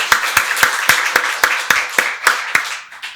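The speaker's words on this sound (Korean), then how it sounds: "박수로 하나님께 영광 돌리겠습니다" A church congregation claps together to give glory to God, about a dozen sharp, evenly spaced rhythmic claps that fade toward the end, with no talking.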